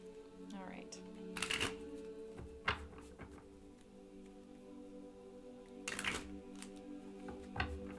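Several bursts of tarot cards being riffle-shuffled, fast flutters at close range separated by quieter handling noises.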